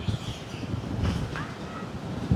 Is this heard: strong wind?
yes